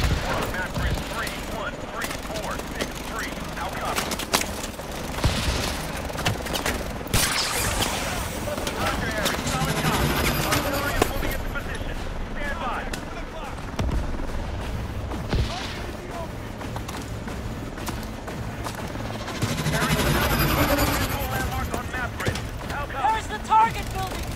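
Artillery and gunfire fill a Call of Duty Advanced Warfare battle, a dense continuous roar of bursts, rumbling blasts and machinery, with radio voices speaking over the din.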